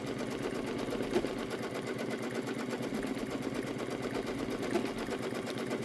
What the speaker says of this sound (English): I am stitching this on the Baby Lock Pathfinder tonight.